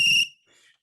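A short, shrill whistle blast at a sports timeout, sharp and loud for a fraction of a second before cutting off, with a faint trailing echo.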